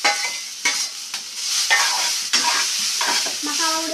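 Maggi noodles with masala are stirred in a hot pan, with repeated scraping strokes of a spoon or spatula over a constant close sizzle, loud and steady throughout.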